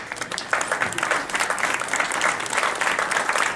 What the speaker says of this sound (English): would you please stand up so we can give you a round of applause?